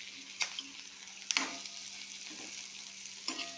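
Chopped onion and capsicum sizzle softly in a pan, with a few sharp clicks and scrapes of a spoon stirring every second or so, no voices.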